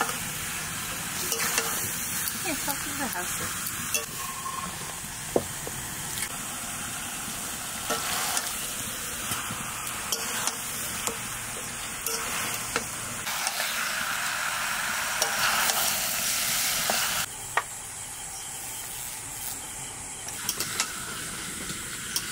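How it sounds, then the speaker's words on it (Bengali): Chicken sizzles in a pan as it is fried and stirred, a continuous close hiss with occasional scrapes and clinks of the utensil, growing briefly louder midway. "মাংসটা অর্ধেক কষিয়ে নিয়েছি"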